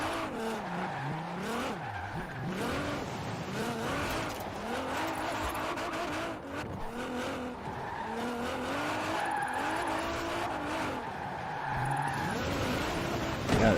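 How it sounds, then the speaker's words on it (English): A car drifts with the e-brake in the racing game Forza Horizon 4, its engine droning loud and steady with rising and falling revs while the tires squeal continuously throughout. "A bit of speed, turn in, feather the e-brake as you hold the accelerator."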